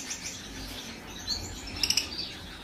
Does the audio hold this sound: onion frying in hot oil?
no